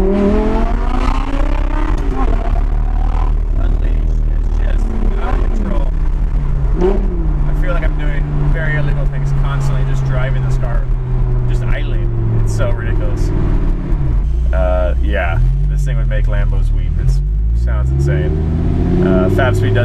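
An Audi R8 V10 with a Fabspeed Valvetronic exhaust revs and roars loudly, pitch sweeping up and down through several throttle blips, with a person talking over it throughout.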